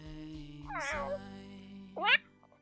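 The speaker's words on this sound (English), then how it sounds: "Yeah, that's my cat." A cat meows twice in the Christmas Dad Simulator video game, two short clear calls close up over a quiet game background.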